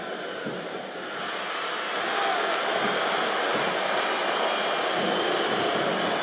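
A large arena crowd roars and cheers during a wrestling match in the video game WWE SmackDown vs. Raw 2007, a steady wash of noise that swells louder after a couple of seconds and holds.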